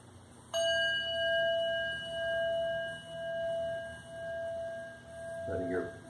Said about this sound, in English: Letting the bell draw your attention back to the present moment.